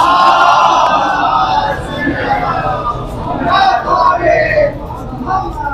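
A gathering at a Shia Jashn-e-Ghadeer celebration chants salawat loudly in unison, a dense crowd roar of many voices that swells at the start and fades into mixed chatter and babble.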